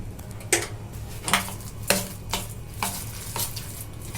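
Spices, Kashmiri chilli and salt being stirred into a raw chickpea and semolina mixture, with close, distinct scraping strokes of a spoon in a pan at an irregular pace of about one per second.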